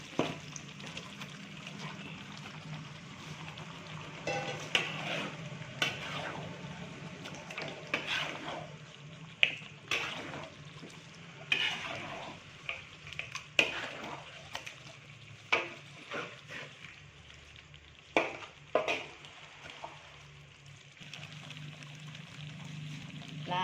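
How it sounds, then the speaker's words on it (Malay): Chicken sizzles and fries in Minang-style rendang spice paste, a soft steady crackle broken by frequent stirring scrapes and clinks of a utensil in the pan. "Kalau masak kok masukkan ayamnya lah"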